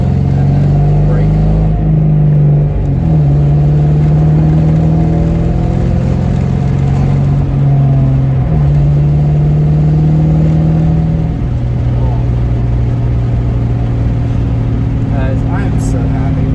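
Car engine on the road, a steady loud drone whose pitch climbs, drops and climbs again as the driver shifts and revs, with a voice talking over it.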